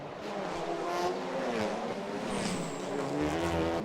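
A Honda Civic TCR touring race car at the Bangsaen street circuit, its engine droning steadily at a distance with a brief high tire squeal.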